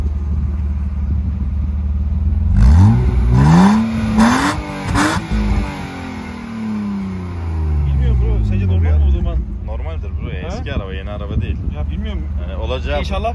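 A BMW E36 engine revs hard several times, climbing in sharp pitch sweeps toward 7000 rpm and falling back to idle, loud and close, with people talking in Turkish around the revs.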